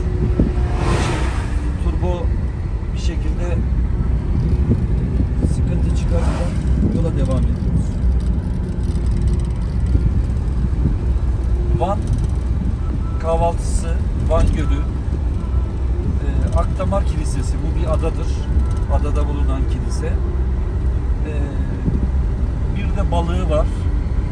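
A car climbs a long uphill mountain road near the Iranian border at Doğubeyazıt, its engine a steady low drone with road noise throughout, while someone talks over it for most of the stretch.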